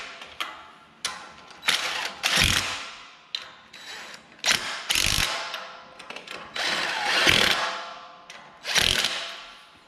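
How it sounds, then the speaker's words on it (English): An air impact gun runs down the lug nuts on a Harbor Freight utility trailer wheel in several short, loud rattling bursts separated by pauses and clicks, close up, with no talk. "And then I'll just run them down with the impact gun."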